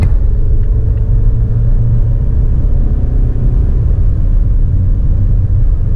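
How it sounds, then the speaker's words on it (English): A Mazda CX-5 2.2 diesel engine roars steadily at full throttle, a loud, continuous low rumble heard from inside the cabin with no voices. "So let's now do the full throttle."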